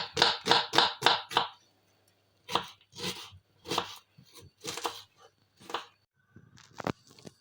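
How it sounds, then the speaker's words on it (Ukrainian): A knife chops through onion on a board in a quick run of five sharp strokes, then slower scattered cuts with pauses between them. "Нарізаємо цибульку."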